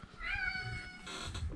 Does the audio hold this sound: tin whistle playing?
no